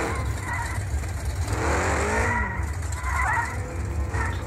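A Nova drag car in the off-road driving game Offroad Outlaws revs and accelerates with a rising, rasping engine tone over continuous loud roar, heard alone.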